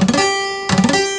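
A bar chord strummed twice on guitar with weak fretting, so some strings stay muted. Each strum is a short, bright attack with a sustained tone that decays, and the second strum repeats the same thin, incomplete sound.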